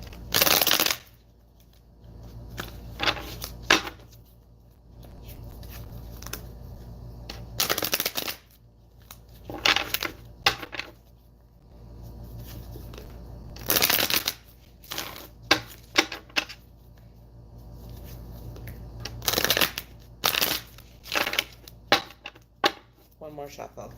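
Tarot cards are shuffled over and over in repeated crisp riffling bursts and flutters, close and fairly loud, while someone talks intermittently in between.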